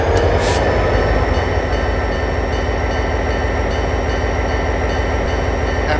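A train runs on a railroad through the Cascades, a loud, steady rumble and roar of wheels on rails with faint rhythmic clicking. It continues without a break.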